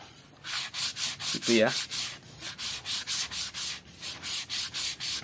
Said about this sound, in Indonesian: Kita amplas tangan sini aja.